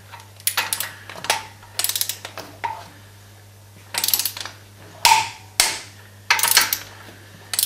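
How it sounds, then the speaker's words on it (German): A torque wrench clicks as the set torque is reached while bolts are tightened from the inside outward during an engine repair: a series of sharp, close ratcheting clicks in short bursts separated by brief pauses. "Das ist das typische Zeichen, der Drehmoment ist erreicht."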